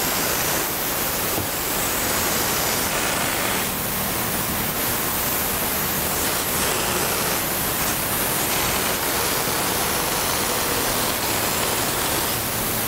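Compressor-powered sprayer laying knockdown texture onto drywall, a steady loud broadband hiss of air and spray running continuously with slight surges, no talking.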